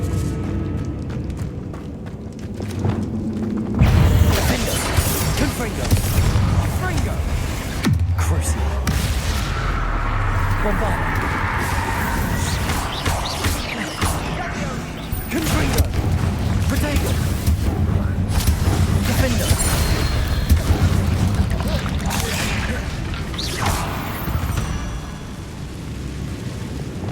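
Confringo blasting spells in the Hogwarts Legacy video game, rumbling booming explosions and crackling magic bursts that rise and fall continuously, with a player talking over the game.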